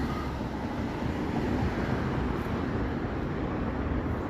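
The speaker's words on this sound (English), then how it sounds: "Right here, another train." A train rumbles steadily through a Toronto city setting in the evening, a continuous broad low roar that stays fairly loud and even throughout, with no voices.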